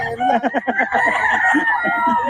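A rooster crows loudly and close by in a drawn-out call, with clucking-like fowl sounds around it.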